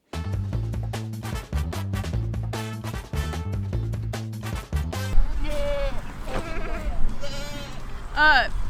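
A herd of goats bleats repeatedly at close range, loud overlapping cries following a rhythmic stretch of pulsing sound, with calls wavering and layering over one another.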